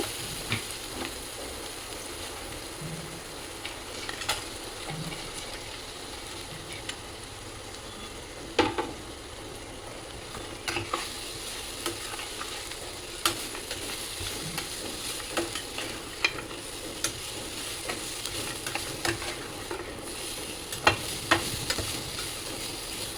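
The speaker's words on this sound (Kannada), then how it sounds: "ಎಣ್ಣೆಯಲ್ಲಿ ಕರೆದು ಇಟ್ಕೊಂಡಿರೋಂಥ ಮಶ್ರೂಮ್ನ ಕೂಡ ಆ್ಯಡ್ ಮಾಡಿಕೊಂಡು ಚೆನ್ನಾಗಿ ಕೈ ಆಡ್ಕೊಬೇಕು" Oil-fried mushrooms being stirred in a hot pan for a pepper dry, a soft continuous sizzle with scattered scrapes and clicks of the spoon throughout, moderately close and with no talking.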